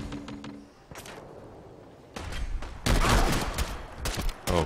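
Combat shotgun blasts in Fallout 4 gameplay, several loud close booms arriving in quick succession over a rumbling bed of game noise, with the heaviest cluster of shots toward the end.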